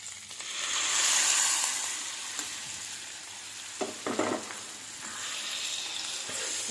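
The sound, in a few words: gongura leaves frying and being stirred in a pan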